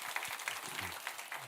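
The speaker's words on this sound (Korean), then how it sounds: "뭔가 좀 마음에 안 들지만 그래도 박수 쳐줍시다." A church congregation claps during a Korean sermon, a dense, steady patter of many hands close by that holds at an even level throughout.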